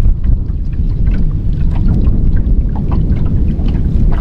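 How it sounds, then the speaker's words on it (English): Strong wind buffets the microphone on a lake during bass fishing from a boat, producing a loud, constant low roar with splashy gusts and no talking. "the wind is trying to kick up"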